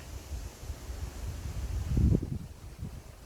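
Gusty wind buffeting the microphone in low rumbling waves on a lake bank while carp fishing, rising to a stronger blast before easing off.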